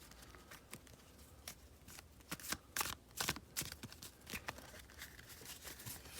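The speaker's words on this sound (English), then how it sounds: "That was a kind of a wide open shuffle." Quick riffling and snapping of a deck of tarot cards being shuffled, several bursts in a row, close and fairly quiet, with no talking.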